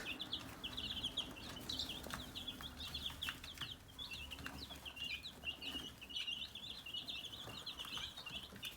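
Baby chicks from McMurray Hatchery peep steadily in a dense, high chorus, with scattered clucks and faint wing flutters over a low rustling background throughout.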